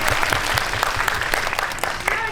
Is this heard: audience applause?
yes